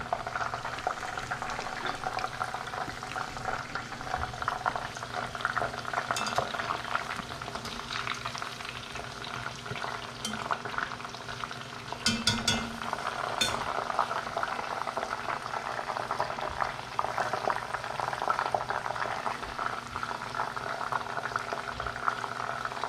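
Cauliflower and Brussels sprouts deep-fry for tacos in hot oil, giving a continuous bubbling sizzle with crackling pops, close and steady throughout with no speech.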